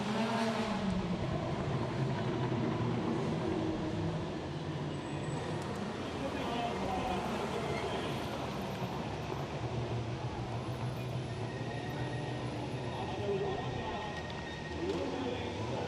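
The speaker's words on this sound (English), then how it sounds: "as the cars come through turn 16 here at the Losail circuit, we'll form the grid" Touring race cars of the 2015 FIA World Touring Car Championship run through turn 16 at Losail circuit in Qatar, a steady dense engine roar across the whole stretch, with a commentator talking over it.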